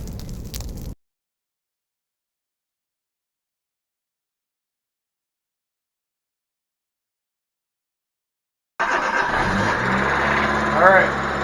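An American-market Fiat Panda with a freshly rebuilt engine starts up and runs, a rough mechanical engine rumble after a long silence, loud and near, with a brief burst of noise at the start.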